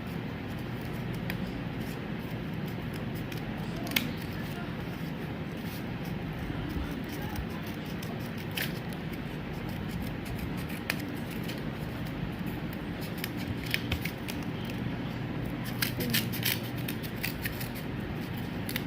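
Paper strips being cut with scissors, a steady stream of soft snips and crisp clicks against a constant low room hum, with several sharper snips standing out near the end.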